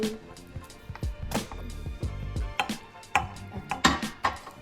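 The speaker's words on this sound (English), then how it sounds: "So I like to cut my burgers in half" A knife cutting a burger in half, close up, with a series of crunchy, uneven chopping strokes, a dense stretch of cutting in the middle and sharper strokes toward the end.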